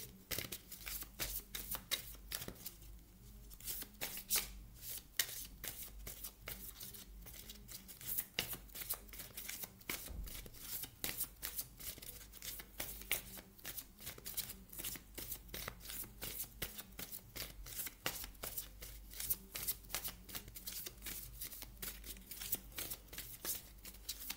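Oracle cards shuffled continuously by hand, a dense close-up riffle of rapid papery flicks and snaps keeping an even rhythm throughout, with no talk over it.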